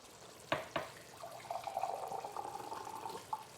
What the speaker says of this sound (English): I'm going to put a little bit more water in there.